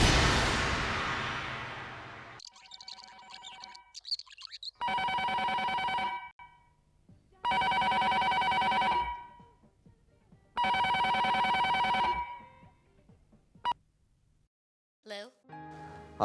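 A landline telephone rings in a quiet home, three long electronic ring bursts in a steady rhythm with pauses between, loud and close, followed by a brief click as it is picked up.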